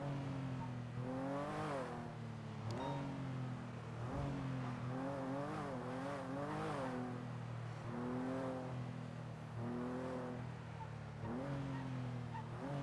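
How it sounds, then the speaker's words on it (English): A car in the GTA V roleplay game drives past with a steady engine drone whose pitch rises and falls through repeated revs, loud and continuous across the whole stretch. "Green car is coming again."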